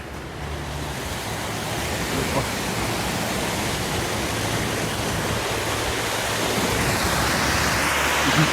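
Loud, steady roar of the Prut River rushing after a dam breach in Yaremche, broadband and continuous, growing slightly stronger toward the end, with no voices.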